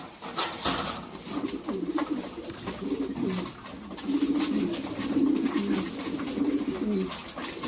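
Lahore pigeons coo in a steady, repeated low burbling, several birds close by, with faint rustling in the background.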